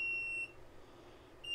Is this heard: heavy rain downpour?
no